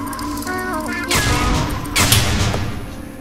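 Turret gunfire in Portal erupts as two loud, crackling bursts of rapid shots following a brief electronic tone sequence, close and harsh against the game's background hum.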